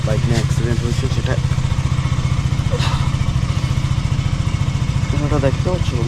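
A motorcycle engine runs steadily close by, a continuous low idle-like drone with some clattering and thumps, while a person talks over it throughout.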